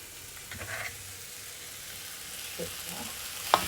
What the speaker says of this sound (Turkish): sürekli karıştırıyorum